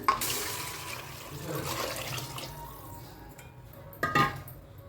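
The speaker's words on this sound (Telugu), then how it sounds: "బియ్యానికి 11 గ్లాసుల నీళ్ళు తీసుకుంటున్నాను." Water is poured glass by glass into a pot for rice in a vegetable pulao, a soft continuous splashing pour that fades, followed by a short louder gush near the end.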